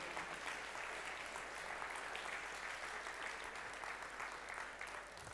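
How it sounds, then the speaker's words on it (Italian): A large audience applauds continuously at a public ceremony, a dense, even wash of clapping that stays steady throughout and then thins slightly at the end. "Ed è proprio un applauso che vi chiedo"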